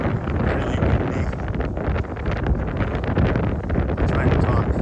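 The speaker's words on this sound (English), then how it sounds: "Really windy." Strong wind buffets the microphone outdoors in a steady, loud, broadband roar that barely lets up, with no one speaking.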